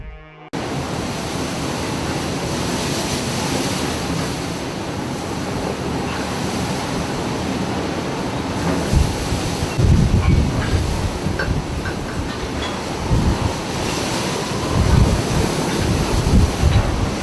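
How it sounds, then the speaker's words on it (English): Huge storm waves from the Pacific Ocean crash and surge in a continuous loud roar, with heavier booming breaks swelling near the end, buffeted by wind noise on the microphone and with no voices. "40-foot heart-stopping waves that were enough to knock other passengers off their feet"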